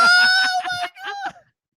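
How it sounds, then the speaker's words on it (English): A person lets out a short, shrill, high-pitched scream during a podcast conversation, loud and close, breaking into two bursts before cutting off. "I'm sorry. I didn't mean to scream."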